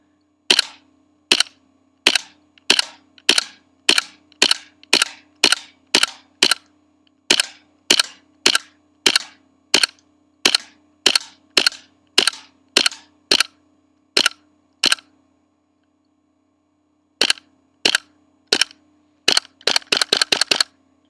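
A KWC Desert Eagle gas airsoft pistol fires about thirty sharp, close cracks in a steady rhythm, a short pause near the end, then a quick rapid cluster, over a faint low hum.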